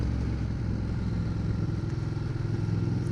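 A 2011 Ducati Diavel Carbon motorcycle engine runs smoothly and steadily, a close, continuous low rumble with an even throb and no breaks or talk.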